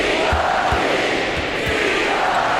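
Hometown arena crowd in the NBA 2K18 basketball game, Miami Heat versus Portland Trail Blazers, roaring and cheering in a steady dense wash with faint court thuds beneath.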